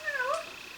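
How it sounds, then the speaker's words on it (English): A male cat gives a single close meow lasting under a second, its pitch rising and then bending down in a drawn-out, slightly plaintive call, heard indoors with no voices. "The male cat."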